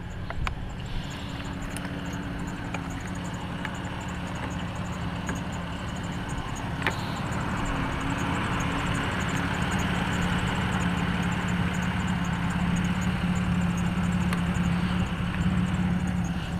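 A 1996 Ford Bronco on 35-inch tires with suspension and body lifts idles after a cold start in cold, rainy weather, a steady low rumble running unbroken throughout with no talk.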